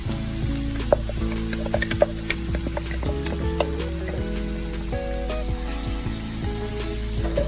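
Tomato puree sizzles steadily in a pan while being stirred into masala for paneer tikka masala; the frying hiss is loud and continuous, with tonal background music running underneath.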